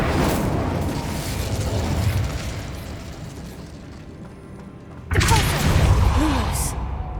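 Confringo and Incendio spell blasts in the Hogwarts Legacy video game. A rumbling fiery burst fades away, then after a quiet stretch a loud blast rises sharply over continuing game ambience.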